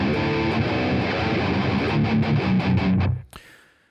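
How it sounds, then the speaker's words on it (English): Distorted seven-string guitar in a modern prog metal style, pounding out low power chords and tight palm-muted chugging for about three seconds, loud and dense, before stopping abruptly with a short ringing tail. "The first one here is a lot of low power chords and some chugging."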